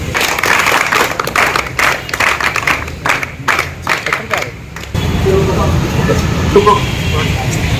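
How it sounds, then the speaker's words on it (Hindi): Group of NCC students clapping together in a rhythmic burst of applause outdoors, loud and close, with a voice speaking over it before the clapping gives way to louder background noise. "ताली बजाओ इसके लिए।"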